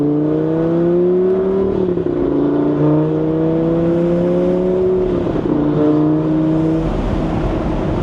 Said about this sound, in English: Alright, pretty good downshifts. A little bit of bloop, bloop, bloop,